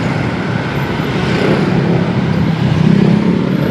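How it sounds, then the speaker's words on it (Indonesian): Dense road traffic in Bintaro, Jakarta during morning congestion, a steady broadband roar of cars, motorbikes and heavier vehicles close by, swelling slightly toward the end with no talking. "Di jam-jam segini Bintaro udah macet."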